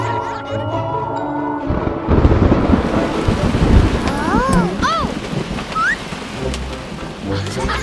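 A cartoon thunderstorm with steady heavy rain and rolling thunder rumbles loudly for several seconds, mixed with tonal cartoon effects and brief character vocal sounds.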